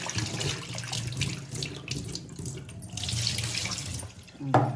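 Dry fish is rinsed under a running tap, with a steady close splash of water into a sink and a small clatter at the end.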